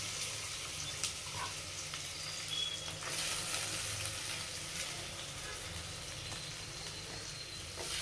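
Steady sizzle of onion frying in oil with mustard seeds and cumin for egg Maggi noodles, a continuous close hiss with no one talking.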